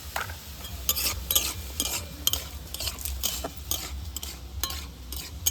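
Potatoes fry in a pan with turmeric and chilli powder, a soft steady sizzle under repeated metal spatula scrapes and light clinks against the pan, close and without speech.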